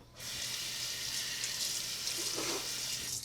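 Cheap Futur knock-off safety razor scraping through Williams shaving soap lather, a steady loud broadband rasp held close for about three seconds with no talking.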